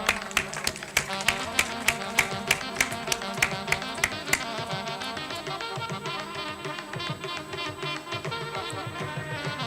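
Auditorium audience at an international chemistry symposium at Saurashtra University applauding an award winner: an early run of sharp, evenly spaced claps that turns into a dense, continuous wash of clapping.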